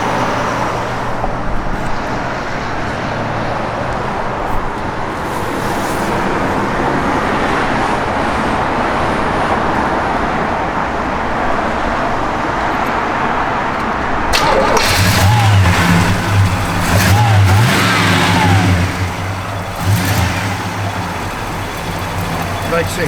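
A 1972 Oldsmobile 442 engine fires up and runs with a steady close rumble that grows louder partway through, with voices talking over it.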